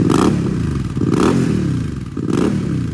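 Motorcycle engine revving in repeated surges, loud and close, with clattering mechanical noise as the bike sets off on a road trip from Mumbai to Karad.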